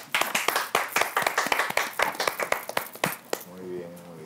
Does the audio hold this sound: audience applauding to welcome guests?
yes